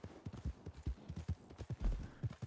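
A horse being groomed in the western game Red Dead Online, with soft rhythmic thumps and hoof shuffles repeating steadily at close range, faint and without talk.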